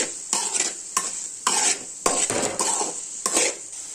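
Pumpkin stir fry stirred with salt in a pan: repeated rhythmic scraping strokes of a spoon with metallic clinks, about seven distinct strokes over a steady sizzle, close and fairly loud.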